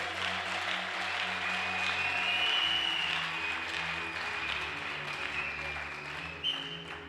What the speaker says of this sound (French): Est-ce que tu peux acclamer fortement le Seigneur?